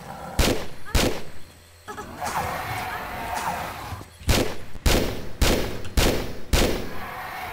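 Gunfire in Tomb Raider 3 Remastered at a crash site: a series of sharp, loud shots, two early then a rapid run of about six evenly spaced bangs, with game ambience and someone speaking between them.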